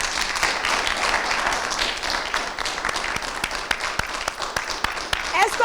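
Audience applause for the children at a Christmas spelling contest fills the hall, dense, steady clapping from a crowd with a few sharper, nearer claps standing out and a hint of voices underneath.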